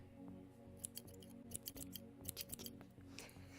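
Small scissors for cross-stitch snip and click several times in quick, irregular bursts, close and quiet against a low background hum.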